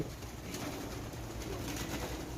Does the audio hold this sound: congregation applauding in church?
no